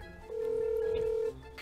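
A single steady electronic tone of about a second, like a phone ring or ringback signal, over quiet background noise.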